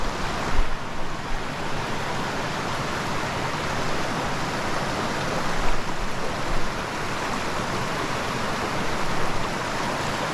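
Small brook trout creek flowing in a wooded setting, a steady close rush of water with no other sounds.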